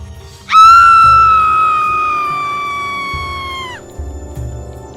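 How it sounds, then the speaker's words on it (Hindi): A loud, sustained scream rings out across a riverside ghat, rising sharply, holding for about three seconds, then cutting off, over low rumbling ambience. "तभी एक जोरदार चीख घाट पर गूंजी।"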